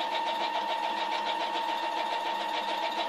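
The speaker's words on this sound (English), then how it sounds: "now I want to sew this way" Sewing machine stitching steadily through material for a car project, a continuous even mechanical whir with a fast regular rattle, close and alone throughout.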